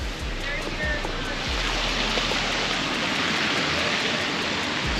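Heavy rain falls in Concord, New Hampshire, a loud, steady, close broadband hiss with a few low thumps near the start.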